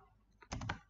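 Quick keystrokes on a computer keyboard, a short close burst of three or four soft clicks after a near-silent start, with no voices.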